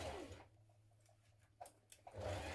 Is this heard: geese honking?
no